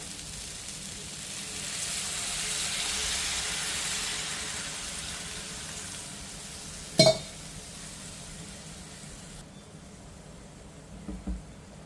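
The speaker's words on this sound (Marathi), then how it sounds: "आता थोडंसं परतून झालं की आपल्याला पाणी टाकायचं आहे पाणी एक वाटीभर टाकायचं" Water poured into a hot pan of sautéed raw mango for gulamba sets off a soft sizzling hiss that swells and then fades. A sharp utensil clink follows, and a little more clatter comes near the end.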